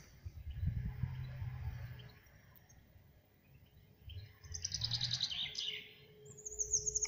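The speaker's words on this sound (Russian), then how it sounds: "Послушайте, как поют весенние птицы." Spring birds chirp and sing in a forest, fairly faint and distant, with short bright trills over a low background rumble.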